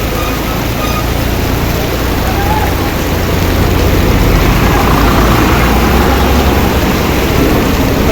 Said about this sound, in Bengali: ওটা গেল কাটোয়া বাস